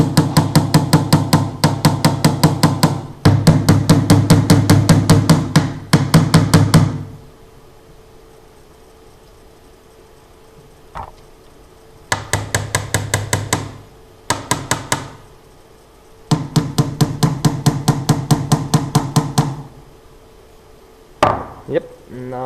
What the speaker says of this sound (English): now hammer the rivets through